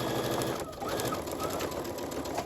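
A sewing machine runs continuously, stitching in the ditch along the seams of a quilt-as-you-go block with sashing; a steady, close mechanical whir with no pauses and no talking.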